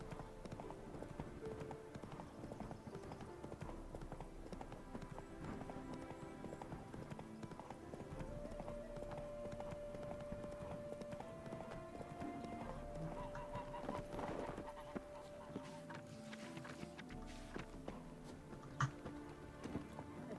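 Roach the horse gallops in The Witcher 3, hooves clip-clopping in a steady run under a busy bed of game music and ambience, with an occasional whinny.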